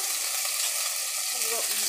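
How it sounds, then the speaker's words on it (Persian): Chicken pieces fry in oil in a cooking pot, a steady, close, loud sizzle and crackle running throughout without pause. "مرغا داره سرخ میشه"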